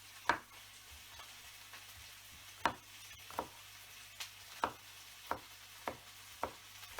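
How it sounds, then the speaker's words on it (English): A knife slices spring onion into small pieces on a board, about nine sharp, quiet taps at an irregular, unhurried pace over a soft background hum, with no speech. "I'll go ahead and slice my spring onion into smaller pieces"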